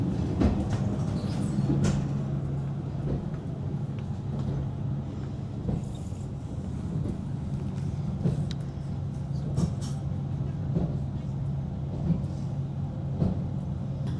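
Steady low rumble inside a moving train carriage travelling from Kazakhstan to Uzbekistan, with faint rattles and occasional clicks, no one speaking.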